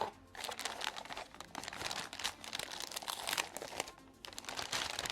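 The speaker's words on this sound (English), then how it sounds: "Now we're gonna unbox the motherboard." Motherboard packaging crinkles and crunches close up during unboxing, a busy run of plastic and paper rustles with short pauses, fairly quiet and with no speech.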